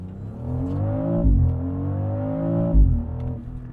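A 2025 BMW X3 M50 accelerates hard at full boost power, its engine note climbing steadily through two gears with a brief dip at each upshift, loud and close from inside the cabin.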